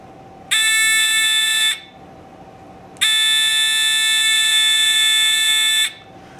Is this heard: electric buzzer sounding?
yes